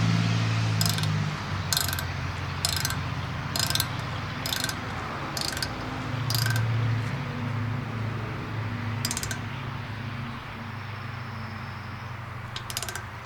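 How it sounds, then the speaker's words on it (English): Torque wrenches click sharply again and again while oil pan bolts are tightened on a Jeep 4.6 stroker engine in a garage. Bursts of clicks recur at irregular intervals, close and distinct, over a steady low hum, with no talking. "So I have two separate torque wrenches already set up."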